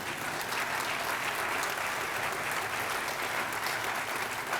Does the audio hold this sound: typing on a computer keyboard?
no